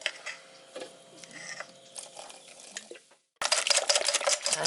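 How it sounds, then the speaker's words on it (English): A whisk beats batter for crispy salt cod in a bowl with quick, soft clinking and swishing strokes, then the sound cuts briefly before a louder, harsher burst of noise. "Give it a good whisk there."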